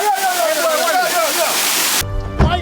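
Roselle Falls in St. Thomas, Jamaica, rushes as a loud, broad waterfall roar for about two seconds, with a voice sliding over it before the sound cuts abruptly to a different, quieter scene.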